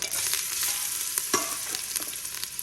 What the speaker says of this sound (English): We're gonna go ahead and start adding some of these rib tips.